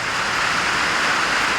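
Heavy monsoon rain pours down in the desert, a dense, steady hiss of falling water that is loud and unbroken, with no voices.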